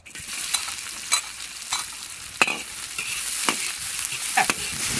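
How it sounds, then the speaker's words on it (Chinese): Vinegar, ginger and garlic fry in hot oil in a wok, a continuous close sizzle broken by repeated scraping strokes of a spatula stirring. "油后下入醋姜蒜"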